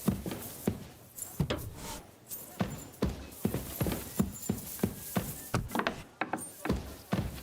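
Hooves of an armored horse in Kingdom Come Deliverance 2 clip-clop on the ground in a steady walking rhythm, close and fairly faint.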